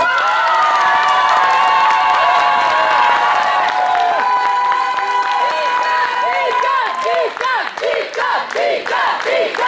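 Audience at a jury question session cheers and claps for a presenter named Bicode, a dense crowd roar with shouts and whistles up close, thinning into scattered claps and voices toward the end.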